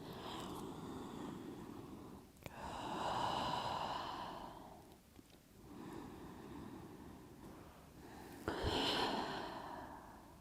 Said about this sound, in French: prenez 3 respirations bien profondes